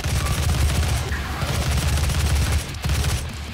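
A gun in Doom fires rapidly until its magazine empties, a loud, unbroken stream of shots with a heavy low rumble, dropping off briefly near the end before resuming.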